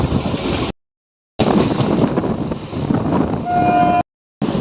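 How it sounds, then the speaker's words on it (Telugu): A passenger train departs near Tanuku station on the Rajahmundry–Bhimavaram line. A close, loud rolling rumble with wind buffeting is broken by two brief dropouts, and a short tonal whine rises near the end. "మన ట్రైన్ బయలుదేరపడానికి సిద్ధంగా ఉంది బయలుదేరిపోయింది కూడా"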